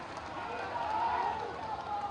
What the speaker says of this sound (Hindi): नितिन नवीन के नाम पर ताली बजा दीजिए